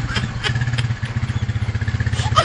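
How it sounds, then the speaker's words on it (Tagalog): Motorcycle engine of a sidecar pedicab idling and puttering with a steady rapid pulse, close and fairly loud, with some rattling clatter of the frame on top. "Siya ang driver po nitong aming sinasakyan ng pedicab na sidecar na motor ang gamit."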